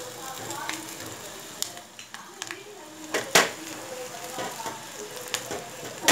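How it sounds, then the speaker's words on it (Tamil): Mustard seeds spluttering in hot oil while tempering for a tamarind-free keerai kuzhambu, a steady sizzle broken by scattered sharp pops and crackles, louder toward the end. "பொரிஞ்சிருச்சு கடுகெல்லாம்."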